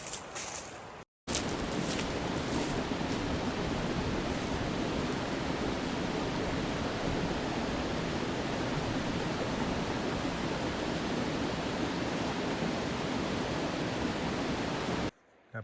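A river flows beside a level hiking trail, a steady broadband rush of moving water that holds nearly constant, with a brief dropout near the start and no talk.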